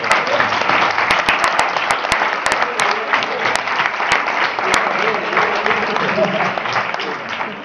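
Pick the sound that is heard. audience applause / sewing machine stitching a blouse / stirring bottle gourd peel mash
audience applause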